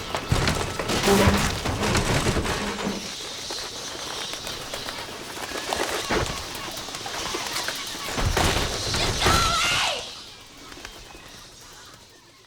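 Cartoonish bird squawks and coos with splintering wood crashes from the Angry Birds video game, loud and busy, bursting in clusters over steady game sound before fading near the end.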